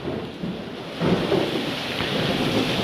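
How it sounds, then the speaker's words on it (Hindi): Thunder rumbles and heavy rain pours during a sudden storm in Patna. Dense rain hiss runs throughout, and a deep rolling thunder swell lifts it about a third of the way in. "बिजली जो है आसमान में कड़क रही है लगातार, और बहुत तेज़ बारिश जो होती हुई नज़र आ रही है यहाँ पे"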